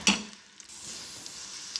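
Onions fry in hot ghee for a khichdi tadka, sizzling steadily after a brief clink of a utensil at the start, close and clear, with no talking.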